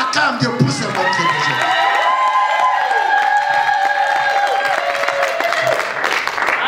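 A church congregation cheers, whoops and applauds together in one steady, loud swell of voices and clapping that holds throughout, with shouted calls rising over the crowd.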